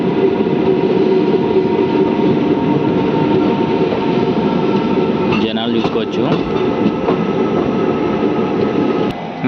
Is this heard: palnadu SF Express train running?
yes